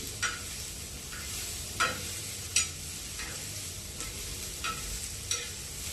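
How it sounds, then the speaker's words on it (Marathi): Chillies and fish masala sautéing in a home kitchen pan, with a steady low sizzle broken by repeated stirring scrapes at a near, moderate level and no talk. "सोबत याला पण परतून घ्यायचं. त्याच्या 2-4 मिरच्या, 5-6 मिरच्या टाकायच्या."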